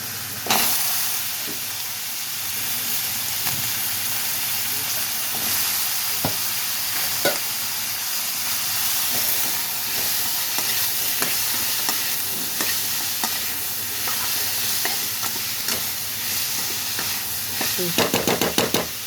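Onion, tomato and drumsticks frying in a pan for a drumstick poriyal, a loud continuous close sizzle with intermittent stirring clicks and scrapes, and a burst of sharper crackling near the end.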